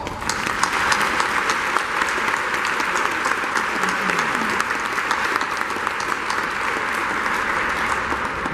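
Sustained applause from a large audience at a university ceremony honouring those who rebuilt off-campus housing after disaster, a dense even roar of clapping held at steady volume throughout.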